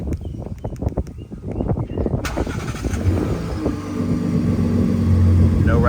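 A 2023 Ford Raptor's exhaust after an exhaust rattle fix, heard as a deep steady rumble and idle drone that grows fuller and louder through the second half, with faint talk early on.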